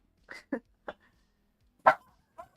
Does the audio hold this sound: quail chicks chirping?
no